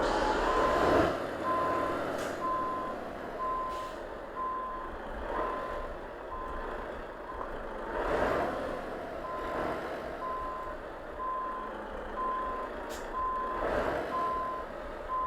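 Steady, evenly spaced reversing beeps from a truck in Euro Truck Simulator 2 sound over a low engine rumble, continuing throughout at moderate volume with no speech.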